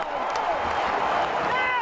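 A stadium crowd of Aue football fans roars in celebration after a 1:0 win over Bremen, a dense, loud, continuous wash of cheering and shouting with a sportscaster's voice speaking over it.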